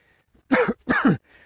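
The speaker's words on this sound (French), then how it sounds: "ça commence à me faire tousser" A person clears their throat twice in quick, harsh bursts, close up, with a faint breath afterward.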